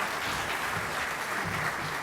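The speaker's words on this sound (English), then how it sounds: "A round of applause for Ms. John." Steady, dense applause from an audience fills a broadcasting union's opening ceremony and hall of fame induction, continuing at an even level throughout.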